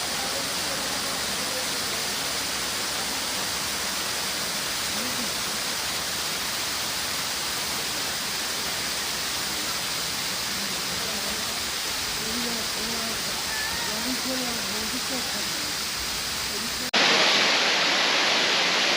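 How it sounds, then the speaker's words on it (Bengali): Rimbi waterfall pouring down from a height, a steady broadband rush of falling water filling the scene at moderate distance, continuous and unbroken, with a brief louder blast of wind noise at the very end. "আমার পেছনে দেখতে পাচ্ছেন রিম্বি ওয়াটারফলস। অনেক উপর থেকে জলরাশি নেমে আসছে"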